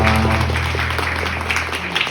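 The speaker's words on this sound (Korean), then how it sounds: "네, 박수 부탁드리겠습니다." Wedding guests applaud at a ceremony where a song is about to be performed, brief scattered clapping over a steady low hum from the hall's sound system.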